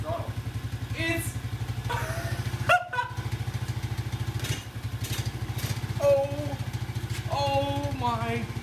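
An old $50 quad's engine idles steadily with a throbbing, even chug throughout, while excited voices talk over it at close range.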